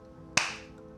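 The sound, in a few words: clap imitated by speaker in ghost story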